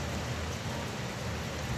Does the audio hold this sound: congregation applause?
no